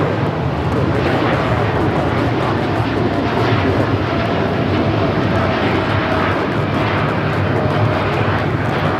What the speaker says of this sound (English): United Airlines 2127 taking off to Newark on the 787-9 Dreamliner